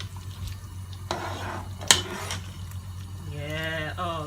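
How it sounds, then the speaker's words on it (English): Banga soup in a pot is stirred with soft, wet sloshing and scraping under a quiet room hum, with a sharp clink midway and a voice speaking near the end. "So you add that, and then you stir it out."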